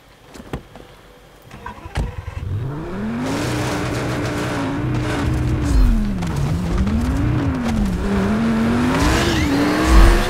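Car engine in the Just Cause 3 land race on a strip mine course, revving hard and rising and falling in pitch through repeated gear shifts, loud and close with brief tire noise.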